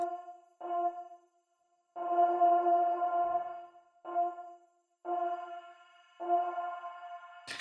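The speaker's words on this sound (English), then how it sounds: "let me play you only the reverb sound" A ringing, reverb-drenched tone, a reverb tail with only the high frequencies left, swells and fades in several sustained bursts separated by short silences, with a hollow, washed-out quality.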